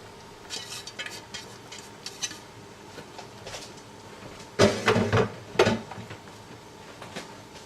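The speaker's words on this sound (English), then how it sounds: "Now we're going to add our noodles, our bihon noodles." Bihon noodles go into a pan for Filipino pancit: utensils clatter and scrape against the pan in a few sharp, loud bursts, with quieter stirring clinks around them and no talk.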